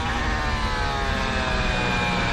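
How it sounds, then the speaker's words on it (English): A loud, steady Alfa Romeo Formula 1 car engine drone at the 2022 Dutch Grand Prix, failing with a rough, strained tone and sputtering texture, continuous for the whole stretch, no voices. "It's the sound of a Alfa Romeo breaking down as Valtteri Bottas"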